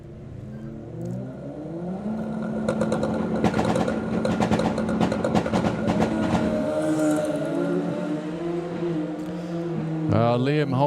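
Drag racing cars launch off the line at the Summer Nationals, a loud engine roar rising and holding with rapid crackling pulses, then falling away near the end.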